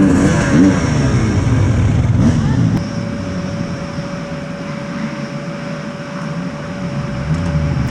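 Several enduro motorcycles idle and rev at the start line of a Hawkstone Park race, a broad engine drone that drops slightly partway through and continues steadily.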